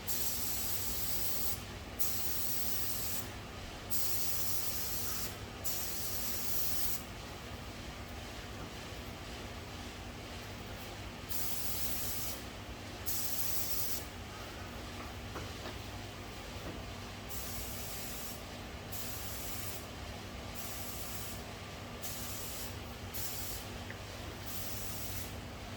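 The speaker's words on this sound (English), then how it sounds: "You're spraying very small amounts at the same time, and you're layering it." Airbrush spraying Alclad metallic paint onto a Mandalorian jetpack model, a steady close hiss of fine spray running continuously, broken by brief pauses as small amounts are layered on.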